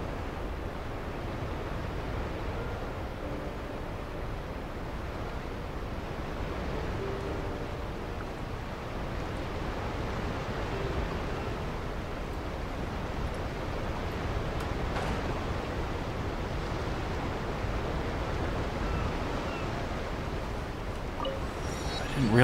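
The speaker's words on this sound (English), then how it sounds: "That's why it sounds like water. Because there's a huge, massive fucking" A massive waterfall in the Genshin Impact video game produces a broad, steady rushing roar that holds evenly throughout, loud and constant, with no talk.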